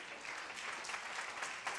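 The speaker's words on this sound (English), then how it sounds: "Would you give the Lord a hand clap of praise?" A church congregation claps steadily, a dense sustained round of applause from many hands with no voices over it.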